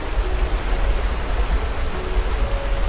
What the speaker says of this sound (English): The rumbling of that waterfall is